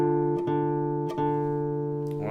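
A guitar plays the opening phrase of Spanish Knights, a Grade 1 classical piece, starting on high F: a few clean plucked notes ringing one after another, close and clear with no talk.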